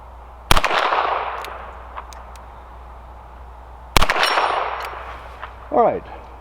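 Two sharp, loud revolver shots from a Ruger GP100 chambered in .22LR, fired a few seconds apart, each with a short ringing tail, followed by a faint metallic click.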